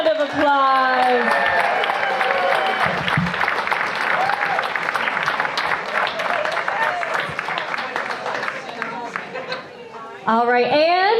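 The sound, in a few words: audience applause at a dance competition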